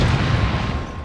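Grenade blast in Resident Evil 4, thrown at an enemy in the castle parlour, heard as a loud, deep boom with a rumbling tail that fills the whole moment before fading slightly.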